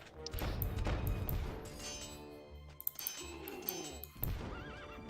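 Horses neigh and whinny during a strategy video game tournament match, several loud whinnies rising and falling over clattering hooves and battle crashes, with a dense, continuous din throughout.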